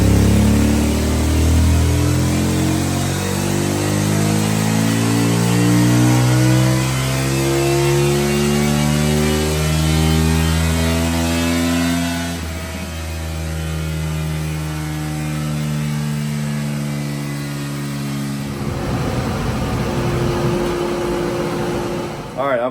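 A CFMOTO Ibex 800 motorcycle fitted with a Yoshimura exhaust and an MSC tune revs hard on a dyno, its loud engine note climbing steadily through the gears for a long pull before dropping back, with a constant hum beneath.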